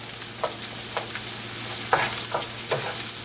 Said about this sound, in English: Now I'm going to fry my onions in the same oil